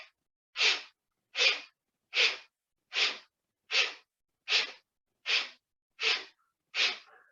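Ten forceful, rhythmic exhalations through both nostrils during a breathing exercise, evenly spaced about every 0.75 seconds, each a sharp loud burst of breath with silence between, heard alone and close.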